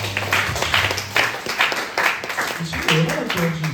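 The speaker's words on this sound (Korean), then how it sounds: "박수" A high-school church service audience gives a round of applause, a steady wash of clapping running throughout with a person talking over it.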